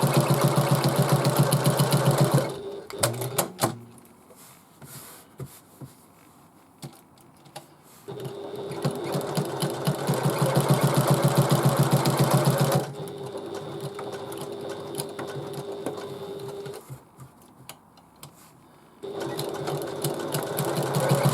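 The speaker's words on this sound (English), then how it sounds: "And I always like to do a double stitch on the corners just to reinforce them." A sewing machine double-stitches the corners of a fabric bag, running in loud, steady whirring bursts that stop and restart several times, with brief quieter pauses between runs.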